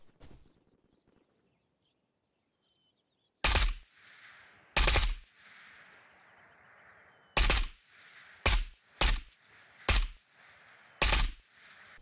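Gunfire from an AK Alpha rifle in the game Ghosts of Tabor cracks out in sharp, loud single shots and short bursts, about eight in all, spaced irregularly with quiet gaps between them.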